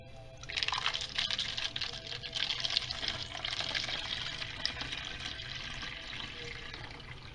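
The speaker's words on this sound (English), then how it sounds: "what we're going to do from here is take the kombucha and just pour it in these bottles." Kombucha pours into sparkling water bottles in a steady trickling, gurgling stream that runs on for several seconds, close and fairly quiet.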